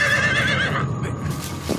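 A horse gives a loud, close whinny that wavers and fades, followed by softer snorting and shuffling sounds.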